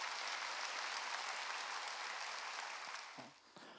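A church congregation at a Sunday service applauding, a dense, steady wash of clapping from many hands that fades out near the end.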